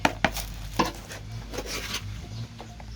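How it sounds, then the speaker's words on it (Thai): Composted manure poured into a plant pot while a Thai eggplant seedling is being repotted: a few soft thuds at the start, then a low, scraping rustle of loose material settling. "นี่ค่ะปุ๋ยคอกหมักใส่ลงไปเลย"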